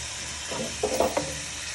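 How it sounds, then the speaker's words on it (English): Beef browns in melted butter in a saucepan, giving a soft, steady sizzle with a few brief scraping and stirring clicks from a wooden spoon. "You first want to add all your beef to your pan"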